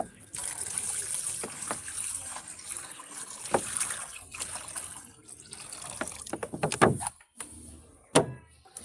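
Water pours and trickles into a pet's water bowl amid handling clatter and knocks, the flow uneven with louder splashes and bumps toward the end.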